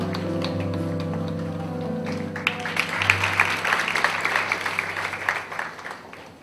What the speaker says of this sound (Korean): 다시 한번 큰 박수로 축복해주시고요